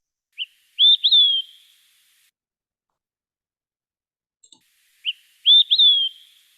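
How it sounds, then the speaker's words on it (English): Olive-sided flycatcher song, two clear whistled phrases a few seconds apart, each a short note followed by a rising, emphatic two-part whistle, crisp and isolated against silence. "So I will play our olive-sided flycatcher song here."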